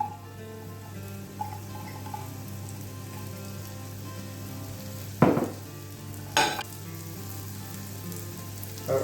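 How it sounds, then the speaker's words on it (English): Cut button mushrooms frying in a pan for beef bourguignon, a steady close sizzle with two brief louder bursts as they are stirred or added, no talking. "So in the same pan, just go in with the mushrooms."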